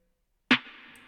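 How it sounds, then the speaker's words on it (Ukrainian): A single low snare drum hit from a sampled beat cracks out after a moment of silence, with a bright sharp attack and a short, buzzing ringing tail fading away. "У мене є, як я його назвав, низький снейр"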